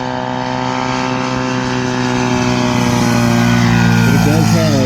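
A radio-controlled F4U Corsair model airplane with a DLE 222 gas engine and a 32-inch propeller flies close by on its maiden flight. Its loud, steady engine drone runs throughout, and the pitch shifts near the end.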